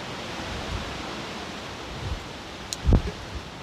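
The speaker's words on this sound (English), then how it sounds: "it's still windy now and it looks like more rain" Steady, soft wind noise blows outdoors with a broad hiss, and a brief muffled gust-like thump near the end.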